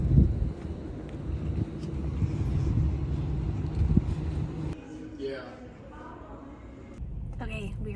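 Steady low road rumble and engine drone from inside a moving car, continuous for several seconds before easing into a quieter cabin hum with faint rustling.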